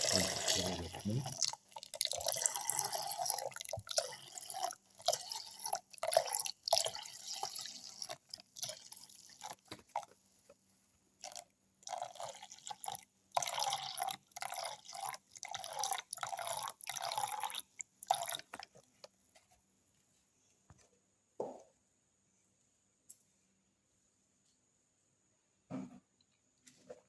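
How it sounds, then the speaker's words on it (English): Milk pours into a blender jar holding watermelon pieces in a steady, gurgling splashing stream for several seconds, then trails off into a few scattered drips and quiet clinks. "Pour in 150 ml of milk."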